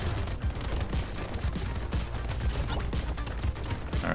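Turrets fire in the game Brotato, a dense, rapid stream of small popping shots and clicks, steady and fairly quiet, with no talking.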